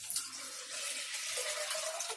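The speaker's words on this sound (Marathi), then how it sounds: "डाळ धुवून 1 तांब्या पाणी घेतलंय त्याच्यामध्ये." Running water streams steadily while lentils (dal) are being washed for a Konkani-style lunch, a continuous close hiss of tap flow with no pauses and no talking.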